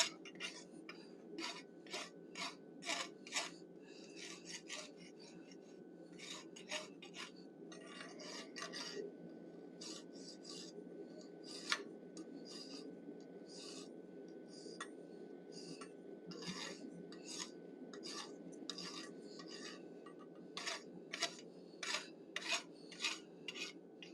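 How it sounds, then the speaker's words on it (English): A hot rasp dresses the horns of a forged steel animal head, making a quiet series of rhythmic scraping strokes that come in bursts over a steady low hum, with no talking. "I'm using a hot rasp to dress the horns a little bit"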